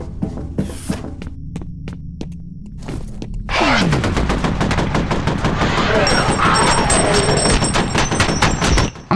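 Gunfire in the FEAR first-person shooter: a few spaced single shots, then a long loud stretch of rapid automatic fire with heavy low rumble, ending abruptly.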